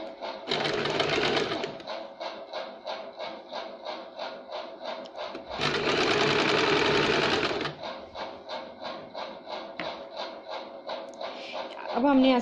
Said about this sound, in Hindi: यहाँ हम मोहरी की तरफ से इसे सीधी सिलाई लगाएंगे,